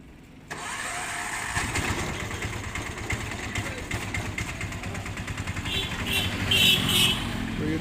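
A vehicle hauling two bike trailers from Ahmedabad to Baramati, Maharashtra starts up after a brief quiet, then its medium engine runs and idles at a steady nearby rumble, swelling slightly as it pulls away.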